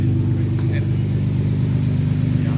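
Close, steady low rumble from an R32 Skyline GTR running through a no-resonator tandem muffler exhaust, an even, throaty engine note holding without obvious climbs.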